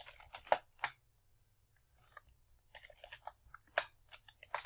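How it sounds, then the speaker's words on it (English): Typing on a computer keyboard, quiet close clicky keystrokes in two short bursts with a pause between. "then you type out what you want to put"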